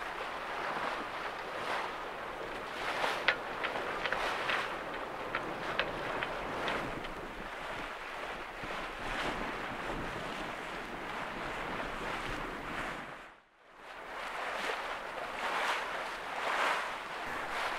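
Steady wind rushing over water with waves washing against the hull of a Centaur sailing yacht under sail off the west coast of Shetland, continuous and fairly loud, briefly dipping before picking back up.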